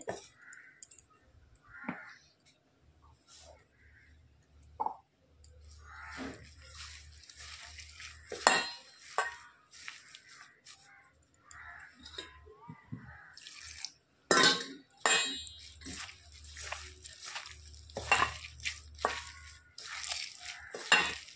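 Bathua leaf fritter batter made with rice flour is stirred in a bowl, giving intermittent close clicks, scrapes and wet slaps of a spoon against the dish in a quiet kitchen.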